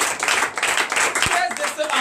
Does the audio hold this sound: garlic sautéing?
no